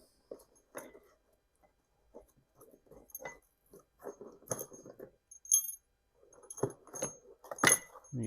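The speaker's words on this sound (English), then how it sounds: "Now we can grab our head bolts." Metal head bolts for a Subaru Legacy engine are picked up and handled, giving scattered close clinks and jangles with light rattling between, irregular and fairly quiet.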